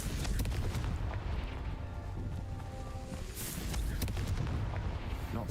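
A Confringo explosion spell goes off in a Harry Potter video game, a continuous rumbling boom with blasting debris that stays loud and steady, alone with no speech.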